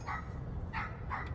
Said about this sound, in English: The dogs are talking to each other.